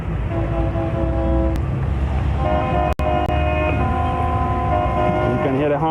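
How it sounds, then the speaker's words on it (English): Boat horns of different sizes sounding as vessels leave a yacht club in Grenada for a billfish tournament, several sustained toots overlapping at different pitches over a low engine and water rumble. "can hear the horns as they come out from the yacht club and make a turn"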